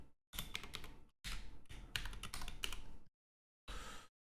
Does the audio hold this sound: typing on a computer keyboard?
yes